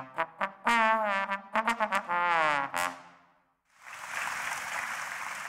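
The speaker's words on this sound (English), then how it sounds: "We think it's the trombone." Trombone phrase with sliding, wavering notes in short bursts and held tones, loud and close, then after a brief pause a broad noisy wash like applause or cheering.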